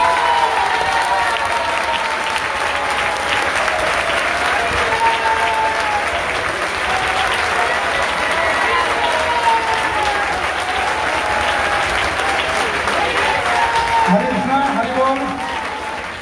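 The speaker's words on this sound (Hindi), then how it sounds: "इनके लिए कम से कम 5 मिनट तालियां बजनी" Congregation at a Srimad Bhagwat saptah religious gathering in Baraut breaking into sustained applause, dense and even clapping from a large crowd for the whole stretch, with a voice faintly audible beneath and the clapping tapering at the end.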